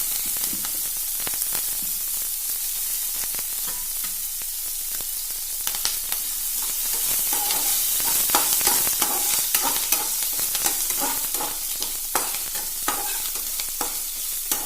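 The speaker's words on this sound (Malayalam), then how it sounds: "നമുക്ക് ഇഞ്ചിയും പച്ചമുളകും ഒരുമിച്ച് ചേർത്തി കൊടുക്കാം" Ginger and green chillies sauté in a pan, a steady crackling sizzle broken by frequent scraping stirs of a spoon, close and continuous with no one speaking.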